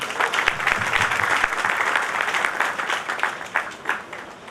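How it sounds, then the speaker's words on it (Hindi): An audience at a Delhi Hindustani Mercantile Association meeting applauds steadily, a dense, sustained round of clapping from a crowd at close range, with no speech over it. "मित्रों, जोरदार तालियां।"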